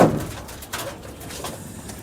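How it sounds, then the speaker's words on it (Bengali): Pigeons coo from a loft setup of special breeds, a soft low call starting close and loud, then quieter murmurs and a couple of faint later coos against light background rustle. "এই হচ্ছে পায়রা"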